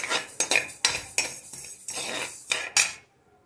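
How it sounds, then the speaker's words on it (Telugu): A metal spoon scrapes and clinks against a pan while fenugreek seeds roast, a series of sharp stirring strikes in an uneven rhythm that stop abruptly, leaving near silence. "మెంతుల్ని వేయించుదాం."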